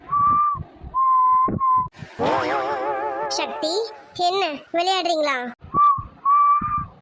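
A person whistles short, clear, steady notes in brief bursts at the start and end. Warbling, speech-like sounds fill the middle, and a voice speaks between the phrases.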